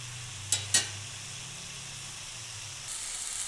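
Cabbage frying with ginger in a pan gives a soft, steady sizzle and hiss throughout, with two sharp clinks of a utensil near the start and a slight rise in hiss toward the end, with no speech.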